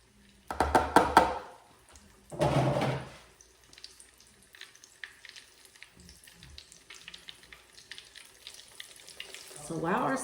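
Salmon fries in hot oil, coated for a crispy skin, with a soft crackling sizzle under a few louder clattering bursts of pan and utensil handling, close by with no talk.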